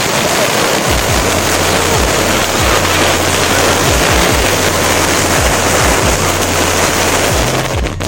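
A Vanitha's Hi Hi firecracker burns with a loud, steady roaring hiss and scattered low crackles, continuous and close for several seconds.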